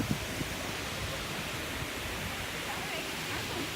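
Water pours steadily from a waterfall into a resort fountain, forming a continuous broad rush nearby, with faint voices murmuring underneath.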